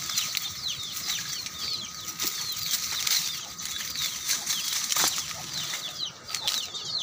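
Chicken flapping its wings in a rustic outdoor setting near a moringa plant, a steady fluttering rustle running throughout at moderate loudness, with busy birdsong and insect-like chirps in the background and no talking.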